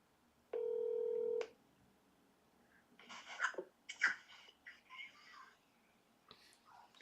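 A phone call is placed with a single steady telephone keypad tone, clear and close, followed by faint rustling and breathy handling noises.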